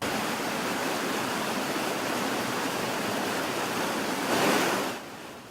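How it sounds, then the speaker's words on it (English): Heavy, fast-moving water gushing from a busted 30-inch cast iron water main in North Park, a loud continuous roar like a river that swells briefly near the end. "That is the sound of gallons and gallons of water gushing from that busted water main"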